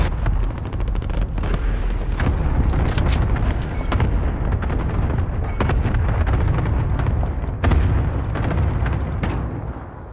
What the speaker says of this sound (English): Cluster strike inbound. Danger close.